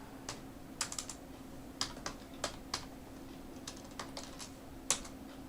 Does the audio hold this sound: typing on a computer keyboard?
yes